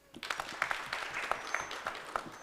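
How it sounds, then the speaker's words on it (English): A small audience at a gender-based violence dialogue welcomes a guest professor with a short, moderately faint round of applause made of distinct individual claps. "A round of applause."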